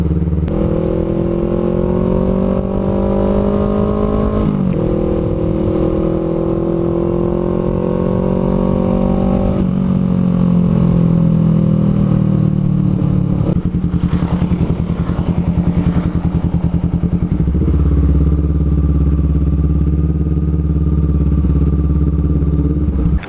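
A Honda CMX500 Rebel motorcycle on a test ride gives a loud, close engine drone that climbs in pitch, drops at each gear change, then pulls up again.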